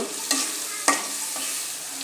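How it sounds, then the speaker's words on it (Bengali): Hilsa fish pieces stirred into cooked spice paste in a pan, a soft steady sizzle broken by a couple of sharp scrapes of the spoon against the pan. "মাছগুলো দিয়ে হয়ে গেছে একটু নেড়ে নেব"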